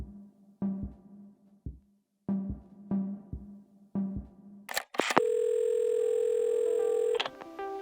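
Telephone tone and handset sounds in the game Assemble with Care: a few short pulsed tones, then a long, steady, fairly loud continuous tone held for about two seconds before it cuts off, with no talking.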